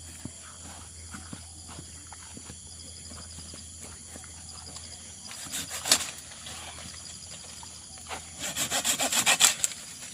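A hand saw cuts into a tree in an orchard where new fence posts are being set. Faint rubbing gives way to two bursts of rhythmic, rasping back-and-forth strokes near the mic, with no clear talking.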